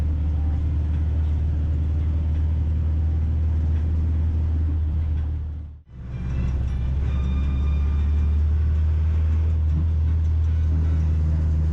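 A bus winds through the hills between Tunja and Villa de Leyva in Colombia, giving a steady, loud low engine and road rumble with a brief dip in the sound midway.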